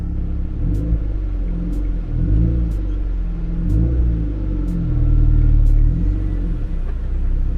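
A car being inspected at a Copart auction yard rumbles loudly up close as its engine revs and settles while the gears are tested, with faint regular clicks ticking over the low drone.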